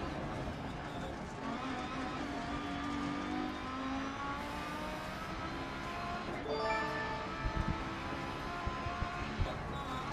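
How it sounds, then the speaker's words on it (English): A race car engine climbing the Pikes Peak International Hill Climb course, droning steadily at high revs with shifting pitch as the driver brakes and changes gear, loud and close throughout with no talking. "We are racing the Pikes Peak International Hill Climb today."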